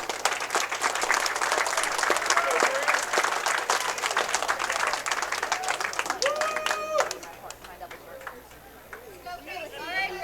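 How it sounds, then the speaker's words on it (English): Crowd applause at a bowling all-star stepladder final honouring four competitors, steady clapping with a loudspeaker voice over it, fading near the end as chirpy squeaks and other venue sounds emerge. "let's give these 4 competitors a round of applause."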